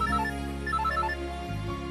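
A phone rings with a bright, repeating electronic ringtone melody, clear and steady for about two seconds over a low background hum.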